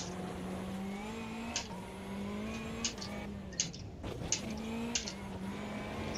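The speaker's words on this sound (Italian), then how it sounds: "una cosa che ovviamente bisogna dire di questo cambio sequenziale è che si fa sentire, si sente tum tum tum" A car fitted with a VNM sequential gearbox runs under steady engine drone, with a string of short, sharp clunks as gears are shifted.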